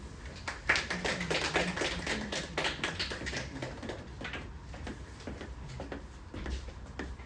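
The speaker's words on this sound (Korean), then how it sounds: "박수로 맞이해 주십시오" Scattered clapping from a modest audience at a school admissions briefing, with individual sharp claps in a loose, uneven rhythm that thins out toward the end.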